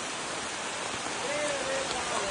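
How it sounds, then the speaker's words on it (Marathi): A small waterfall pours continuously, a dense, close rushing wash of falling water that stays loud and even throughout. "नाताला इथं पाणी पडते"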